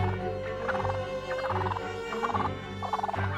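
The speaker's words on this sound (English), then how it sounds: "Each step is accompanied by the resonant gobbling sound, a distinctive call that can be heard from up to a mile away" A wild turkey gobbles during its strutting display in the Great Smoky Mountains, giving several resonant, rattling bursts in steady succession over a low, steady background.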